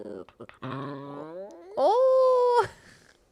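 A dog growls and whines in a rising, drawn-out vocal sound that ends in a high, sustained whine, close and fairly loud, with short yips before it and no talking.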